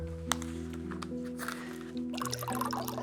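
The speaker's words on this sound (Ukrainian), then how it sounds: "Наливаємо соку." Juice pours into a mug at an outdoor picnic, with a soft liquid trickle and splashing that grows fuller toward the end. A steady tonal hum runs beneath it.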